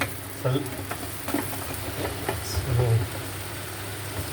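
Salted chicken steaks frying in a covered pan, a steady broad sizzle throughout with faint clinks and stirring noises, no one talking.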